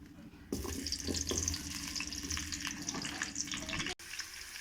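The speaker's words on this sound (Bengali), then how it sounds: "কড়াতে প্রথমে রিফাইন তেল দিলাম। আলুগুলো প্রথমে ভেজে নেব।" Potatoes frying in refined oil in a wok, a steady close sizzle with bursts of crackle and faint scraping that breaks off briefly near the end before resuming.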